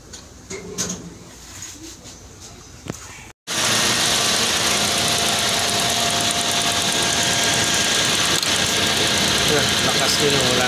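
Repaired radiator fan motor on a Toyota Vios, fitted with new bearings, spinning at speed as a loud steady whir. It starts abruptly after a short pause and runs evenly to the end, with no grinding. Quiet talk comes before it.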